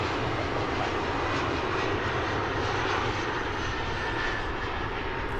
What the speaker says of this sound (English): this plane takes off on 18 left